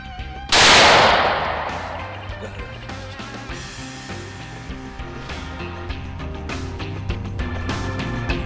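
A single loud hunting rifle shot firing a Hornady SST bullet, a sharp close crack followed by a long rolling echo that fades over several seconds into quiet outdoor background.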